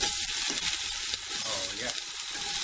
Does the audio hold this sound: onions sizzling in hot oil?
yes